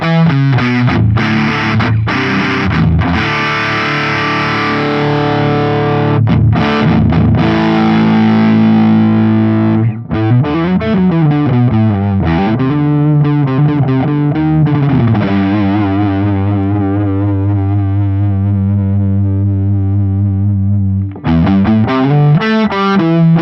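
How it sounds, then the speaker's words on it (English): Electric guitar through a Dallas-Arbiter Fuzz Face model on an Axe-Fx III, loud saturated fuzz tones with sustained chords and bends, thick and buzzing, played alone without talk. "if you crank the drive up and you push it really hard, I mean, you get kind of an overwhelming fuzz kind of sound"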